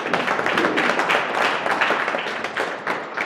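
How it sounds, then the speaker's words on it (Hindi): An audience at a live stage event breaks into dense, steady applause that fills the space throughout, with no talking over it. "एक बार इनके लिए जोरदार तालियां।"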